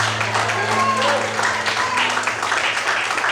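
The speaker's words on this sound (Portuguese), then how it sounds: "Se você crê, glorifique e aplauda Ele bem forte, em nome de Jesus." A church congregation claps and applauds during a worship service, a steady wash of clapping running throughout, with a low hum and voices beneath.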